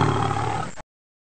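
A lion's roar used as a sound effect in a children's bedtime story about a lion and cows, one loud, sustained, rough roar that cuts off abruptly into silence.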